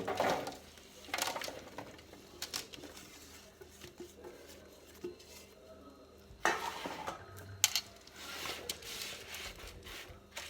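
Boiled potatoes tumbling out onto an oiled baking tray, with scattered soft thuds, scrapes and clatters of pieces landing, plus a louder clatter burst midway, close and moderately quiet.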